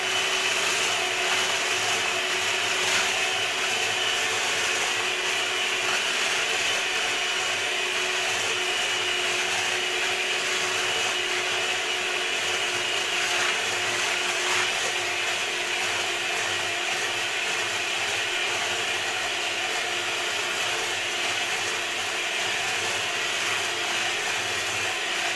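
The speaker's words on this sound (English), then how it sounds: "we've increased to the highest speed, which is speed number 5 on this particular mixer." An electric stand mixer on its highest setting, speed 5, whips cream for cake decorating, producing a steady, unbroken whirring whine at a constant moderate level.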